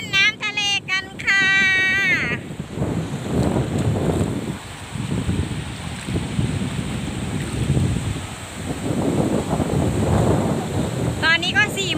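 Surf washing ashore on a windy Thai beach where children play in the sea, with steady wave wash and heavy wind buffeting the microphone, and a few faint bird-like chirps at the start.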